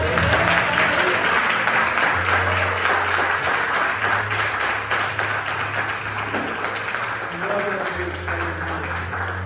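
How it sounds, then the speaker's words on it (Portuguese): A church congregation claps steadily throughout a live service, with a low hum and a voice speaking underneath the applause. "que as palmas louvem o nome do Senhor Jesus"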